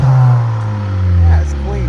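A 2022 Honda Accord 1.5L with straight-pipe exhaust idles and revs briefly, a steady low droning rumble that swells slightly, close by, with voices talking over it.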